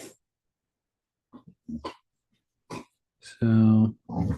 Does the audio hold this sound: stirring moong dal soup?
no